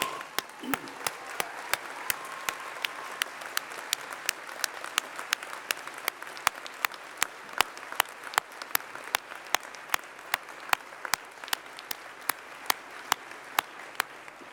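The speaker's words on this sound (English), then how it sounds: "let's give them a really good round of applause" A graduation ceremony audience gives a long round of applause at a university winter awards event, a sustained even patter of many hands with crisp individual claps popping through, heard from a distance.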